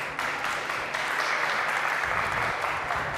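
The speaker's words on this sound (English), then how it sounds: "Please put in a round of applause for him." Audience applause at a tech conference, a steady, dense wash of clapping from a large crowd that fills the room evenly for the full stretch without pause.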